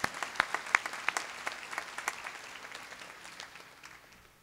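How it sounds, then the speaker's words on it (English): Applause from a commencement audience for parents and families, scattered close handclaps standing out over a soft crowd clatter that gradually thins and fades. "please, a round of applause for all of the parents and families"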